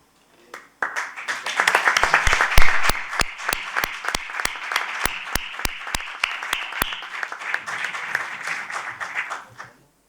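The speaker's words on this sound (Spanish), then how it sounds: "le damos un fuerte aplauso cuando él esté preparado" An audience at a heritage lecture in Marchena breaks into applause, building quickly to a full, dense clapping with a few sharp nearby claps standing out, then thinning and stopping after about nine seconds.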